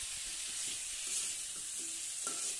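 Rui fish curry with winter eggplant, lightly spiced, sautés in a pan with a soft continuous sizzle and occasional scraping strokes of a spatula stirring close by.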